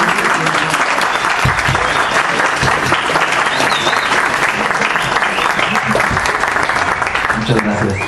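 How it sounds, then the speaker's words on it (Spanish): Loud, sustained applause from an audience at a lecture on Mexican identity welcomes a visiting university student speaker, a thick continuous roar of many hands with faint voices mixed into the crowd. "Démosle un aplauso al alumno que viene desde la universidad"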